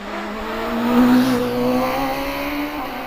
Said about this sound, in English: Steve Morgan with us in the Empire Evo.